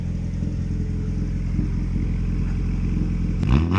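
A turbocharged Honda B20 engine idles with a steady, close rumble, then is revved sharply near the end, the pitch sweeping quickly upward.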